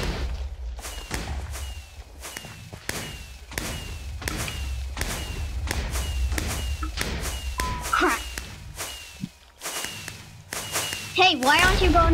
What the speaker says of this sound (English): I have more fireworks per second.